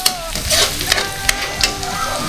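Garlic butter prawns fry in a pan with a steady close sizzle, broken by a few sharper crackles and stirring scrapes, and no one speaks.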